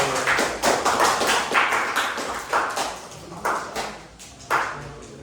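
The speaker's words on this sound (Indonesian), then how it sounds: "mari kita beri aplaus untuk kelompok 2" Students in an Islamic religious education classroom give a short round of applause for a presenting group, a small cluster of sparse, uneven hand claps close by.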